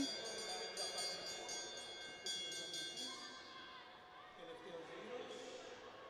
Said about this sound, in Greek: Πάμε λοιπόν τώρα για το καμπανάκι, για τον Κύπριο αθλητή.